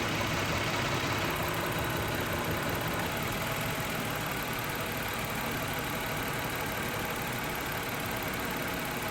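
A 2000 Toyota 3.0 litre VVT engine with a misfire idles steadily and close, a continuous low rumble with a fine high hiss, alone throughout.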